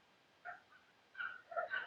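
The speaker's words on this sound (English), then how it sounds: "Got some dogs barking in the background." A few faint, distant dog barks in quick bursts, heard during an outdoor drone flight on New Year's Eve day, with no talk over them.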